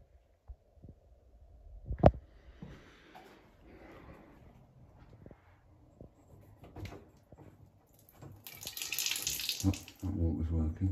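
A tap running in an abandoned mansion bursts on as a steady rushing hiss for about a second and a half, then settles into lower splashing, after scattered faint footsteps and knocks in a quiet room.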